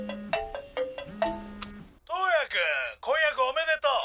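A phone rings in an anime: a few quick electronic ringtone tones repeat for about two seconds, then a character's voice takes over.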